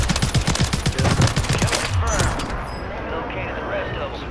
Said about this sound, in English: Getting shot from all angles.